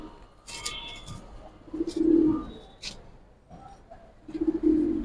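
Pigeons coo close by in two deep, rounded bursts, with softer chirps and scuffling noises between them. No one speaks.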